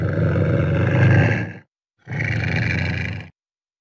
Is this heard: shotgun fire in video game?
no